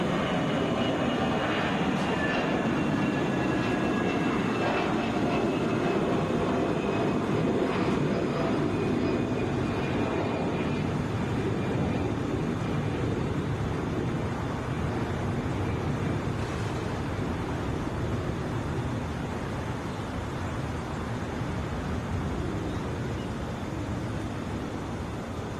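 A Delta Airbus A320 airliner takes off from Atlanta for Toronto, its engines producing a sustained, broad, rumbling roar that stays steady and gradually eases.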